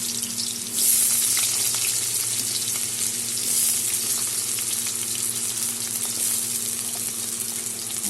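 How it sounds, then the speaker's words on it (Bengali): Large-cut potato pieces with black cumin seeds fry in hot oil, a loud, continuous hiss and sizzle close up, steady from start to end without talk. "এটা এখন ভেজে দেব"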